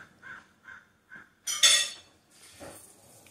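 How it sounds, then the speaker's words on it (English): A crow caws four times in a regular rhythm, fairly close, followed by a sharp clink of dishes and cutlery in a kitchen where orange chicken is being prepared. "Shut up, Crow. You're not getting any chicken."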